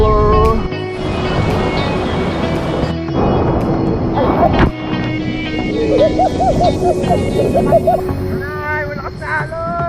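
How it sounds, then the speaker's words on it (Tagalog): Loud, strong surf crashing and rolling close by at Baler in the Philippines, with people talking and calling out over the waves; a dog yelps briefly partway through. "Ay, malakas na alon."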